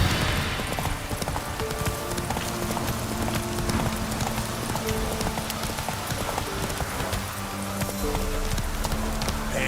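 A horse gallops in The Witcher 3 video game, its hooves making steady, rapid clip-clop beats under a dense wash of ambient game noise across the whole stretch.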